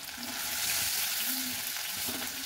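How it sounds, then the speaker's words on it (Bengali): Prawns lightly frying in hot mustard oil give a steady, close sizzle and crackle that holds at an even level throughout, with no voices. "চিংড়ি মাছটা একটু হালকা ভেজে নিতে হবে।"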